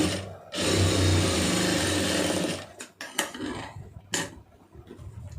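Sewing machine stitching a lining piece for a puff sleeve with a saree border, one steady loud run of about two seconds followed by short clicks and handling noises.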